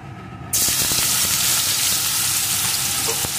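Chopped onion for a Katla fish curry hits hot oil with a sudden loud sizzle after a brief quieter moment, then fries steadily with a dense hiss and occasional stirring clinks.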